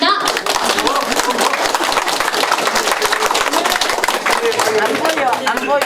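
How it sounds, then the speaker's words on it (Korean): A crowd at a campaign office opening applauds as a candidate is welcomed, dense rapid clapping close by with cheering voices mixed in. "여러분 뜨거운 박수로 모시겠습니다."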